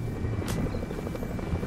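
A video game helicopter whirs steadily with a throbbing rotor hum, moderately loud and continuous, with a brief sharp click partway through.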